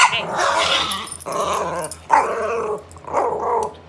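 A dog growls and barks in several rough, agitated bursts, close by and fairly loud, with brief pauses between outbursts.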